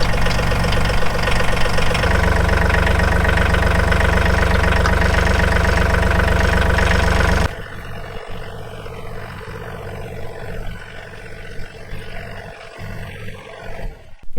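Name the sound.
John Deere 3033R tractor engine idling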